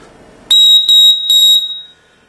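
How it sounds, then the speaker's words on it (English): A piercing, high-pitched whistle built into the Zytel housing of an SL3 Fire survival knife is blown loudly three times in quick succession, the last blast trailing off. "is this whistle that's built into the Zytel"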